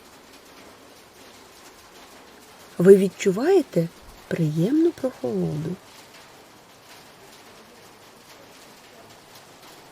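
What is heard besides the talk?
rain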